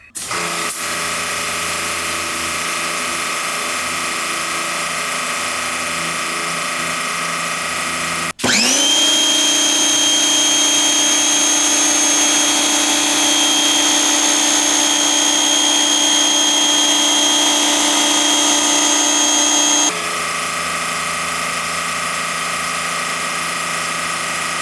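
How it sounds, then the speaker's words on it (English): An AR635 wall-mounted pressure washer starts up about two feet away, running loud and steady with a high whine over a broad hiss for about eleven seconds before cutting off, with quieter room hum before and after. "Just for reference, the pressure washer is about 2 feet away from the microphone."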